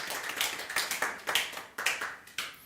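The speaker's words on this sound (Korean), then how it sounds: "박수로 한번 환영하겠습니다" A church congregation at a Sunday worship service applauds to welcome back a returning member, a few hands clapping in an uneven, sparse rhythm of sharp claps in a small room, with no talk over it.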